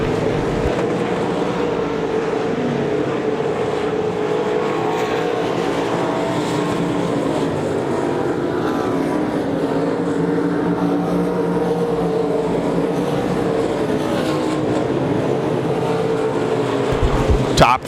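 Race cars circling at Devil's Bowl Speedway, a steady loud engine drone with dense roaring throughout, under a commentator's voice and ending with a short clatter.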